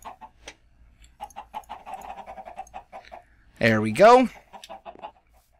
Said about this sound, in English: We'll just spawn a couple chickens in here.